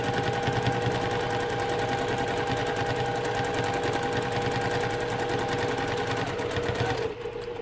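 A domestic sewing machine stitching steadily during free motion quilting of a flying geese block, a loud, fast, continuous mechanical chatter that runs unbroken for several seconds before easing off near the end.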